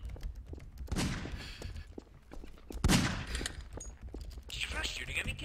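Gunfire rings out in a video game, a few sharp shots and short bursts spaced across a few seconds, mixed with game effects and a voice speaking.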